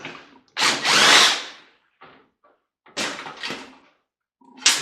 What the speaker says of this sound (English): We need to do some drill work here.